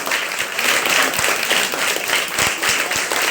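Loud, close applause from a gathering honoring a teacher, steady dense clapping with a few sharper individual claps standing out over about three seconds.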